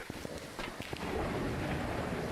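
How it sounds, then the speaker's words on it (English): Thunder rumbling through rain in the horror game Phasmophobia, a low roll swelling after about a second and holding steady as a dense, close wash with no voices. "we get a little bit of lightning just to light our path a little bit"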